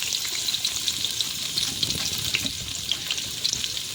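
Onions sizzle and crackle steadily in hot oil in a home kitchen, a dense continuous frying hiss with small pops and occasional stirring scrapes, close and fairly loud with no talking.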